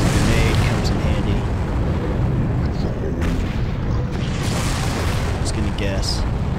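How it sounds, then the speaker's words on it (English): Heavy, booming explosions and rumbling blasts from a grenade fight in the video game Far Cry, dense and loud throughout with repeated impacts and a continuous roaring wash of noise. "This might be one of those times when a grenade comes in handy."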